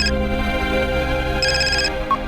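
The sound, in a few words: phone ringing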